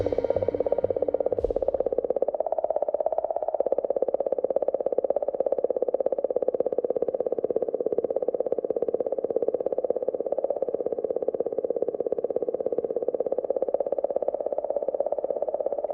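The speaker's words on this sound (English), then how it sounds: "Some are a little stranger, like the sound of this singing comet." Eerie singing of Comet 67P as picked up by the Rosetta probe in space: a steady, droning hum with layered, wavering tones that holds unbroken and fairly loud throughout, with no voices.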